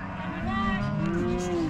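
Cattle on a Montana ranch during a shipping-time roundup low in a long, wavering moo, fairly close over a busy outdoor background of rumbling and stirring.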